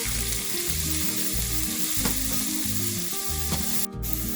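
Coconut mixture with curry leaves sautéing in a pan gives a steady, close sizzle and frying crackle throughout, with a brief scraping stir near the end and no voices.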